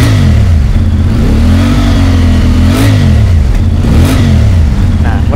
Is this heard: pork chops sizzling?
no